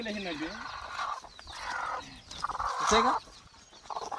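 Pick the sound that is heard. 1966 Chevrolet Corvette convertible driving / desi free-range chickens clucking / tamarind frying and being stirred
desi free-range chickens clucking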